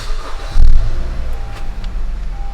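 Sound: car engine starting

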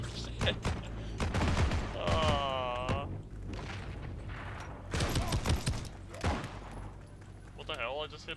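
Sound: gunfire from hip-firing a gun in Heroes and Generals video game

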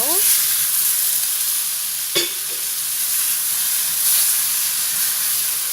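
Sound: minced garlic sizzling in a pan with fried tomato

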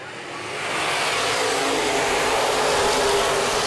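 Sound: open wheel modified race cars starting at Baer Field Speedway

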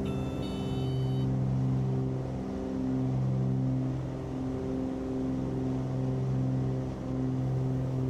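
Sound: Cessna 414AW Chancellor engines at full power, from a flight simulator game

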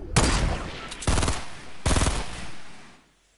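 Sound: gunfire in Fortnite video game

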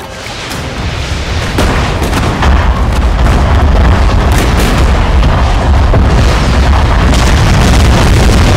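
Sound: rocket fire and explosions in video game Total War: Shogun 2

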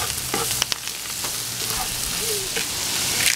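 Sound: shrimp browning in a pan

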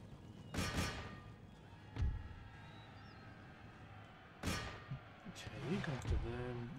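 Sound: cavalry horses neighing and galloping in Empire Total War video game

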